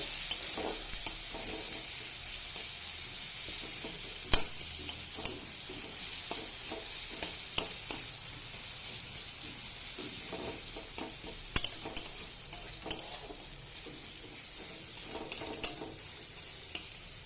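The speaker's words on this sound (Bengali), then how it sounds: "পেঁয়াজ দিয়ে দিয়েছি, এবার পেঁয়াজটা এবার ভালোভাবে ভেজে নেব।" Chopped onions sizzle in hot oil in a pan while being stirred, a steady close frying hiss broken by occasional sharp scrapes and clicks of the spoon against the pan.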